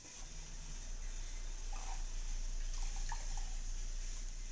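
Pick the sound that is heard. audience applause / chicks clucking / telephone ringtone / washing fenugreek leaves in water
washing fenugreek leaves in water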